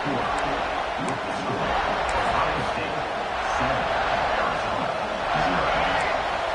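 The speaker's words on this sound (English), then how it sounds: "Listen to this crowd just shaking the girders of this place" A huge stadium crowd roaring continuously, a dense wall of noise that swells slightly midway and again near the end.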